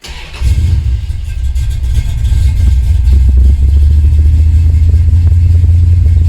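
A 1976 Dodge Aspen engine starts without the gas pedal and settles into a steady, loud low rumble of idling that holds evenly to the end.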